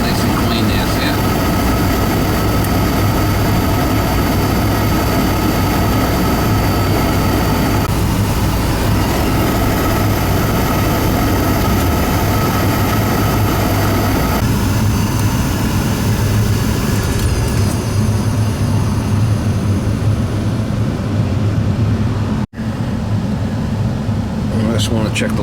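An oil-fired furnace burner with a delayed oil valve lights and runs during an annual service, giving a loud steady roaring drone that shifts in tone partway through, with a voice speaking over it.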